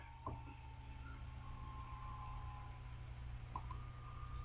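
Two faint computer mouse clicks, one near the start and one later, stand apart in a near-silent room while an icon is selected in software.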